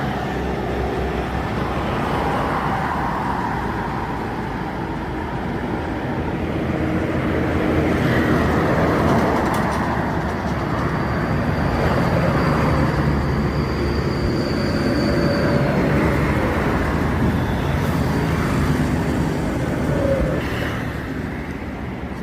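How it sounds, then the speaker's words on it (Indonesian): A bus on a road, an NPM Jetbus 3 Sutan Class sleeper coach from West Sumatra, approaching from a distance as a steady broad rumble and roar that swells slightly toward the middle and holds, with no one talking. "Satu unit lagi ada bus, apa nama busnya kurang tahu, masih kejauhan."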